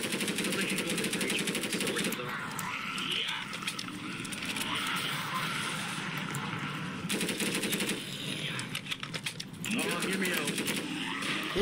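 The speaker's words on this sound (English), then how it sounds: "wait, I can shoot it from here." Rapid machine-gun fire rattles in the Roblox zombie shooter Michael's Zombies, coming in repeated bursts with short pauses between them while players talk.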